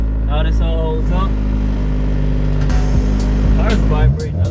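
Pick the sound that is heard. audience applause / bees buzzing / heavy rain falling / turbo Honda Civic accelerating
turbo Honda Civic accelerating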